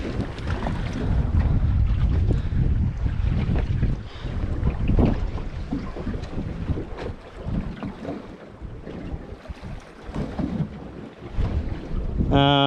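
Strong wind gusting over open coastal water aboard a small fishing boat, a loud roaring rush buffeting the microphone with sloshing waves beneath, constant and close throughout.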